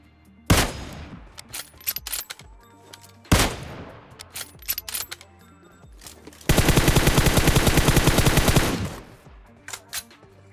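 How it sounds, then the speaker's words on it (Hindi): Kar98 rifle shots in the PUBG Mobile video game: two loud single cracks with trailing echoes a few seconds apart, then a sustained burst of rapid automatic fire and a few scattered shots afterward. "देखना कैसे कार 98 का हेडशॉट बजाएंगे"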